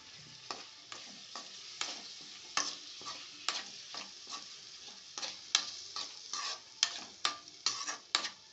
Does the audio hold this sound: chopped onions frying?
yes